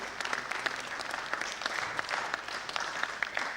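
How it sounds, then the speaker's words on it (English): An audience at a book launch applauds in a continuous, moderately loud patter of many hands as a guest walks to the stage, with no clear talk. "Let's continue clapping for her as she takes on the stage."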